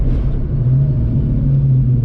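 Deep, loud engine roar from a car with a 302 V8 held under load during break-in, a steady low drone throughout this brief stretch with no talking.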